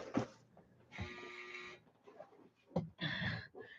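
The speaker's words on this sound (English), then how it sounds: "And the dryer went off." A clothes dryer buzzer sounds in a home, a steady electronic tone lasting under a second that repeats once, heard faintly at a distance among thuds and handling noise.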